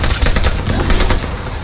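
Gunfire in a Call of Duty match crackles as loud, rapid automatic shots in a dense, continuous burst, close and unbroken by speech.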